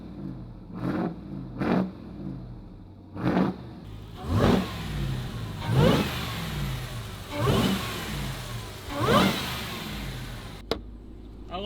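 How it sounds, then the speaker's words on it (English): A truck engine with a super loud, aggressive exhaust, heard from behind the vehicle: six or seven sharp throttle blips, each a brief roaring rise and fall, separated by quieter idle rumble and spaced about every second and a half. "Back by the exhaust, it's super loud, sounds awesome, it sounds aggressive."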